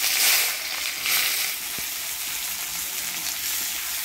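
Chopped onions fry in hot oil with whole garam masala, dry red chilli, bay leaf, cardamom, clove and cinnamon for a chicken curry, a steady close sizzle with gentle stirring swells and a couple of faint clicks.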